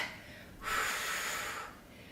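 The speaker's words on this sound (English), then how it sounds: "I'm breathing out." A single forceful breath out during a core exercise, close and breathy, lasting about a second against a quiet background.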